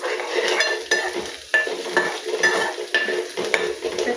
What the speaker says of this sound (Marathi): तर कांदा आता छान असं आपण परतून घेऊ।